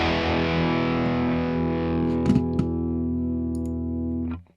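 Distorted electric guitar through a Fractal amp modeler with Greenback speakers: a single thick sustained chord rings out, slowly decays with faint string noise, then is cut off abruptly; no talking.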